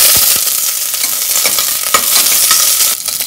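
Dried red chillies frying in hot coconut oil make a loud, steady crackling sizzle with small popping bursts throughout.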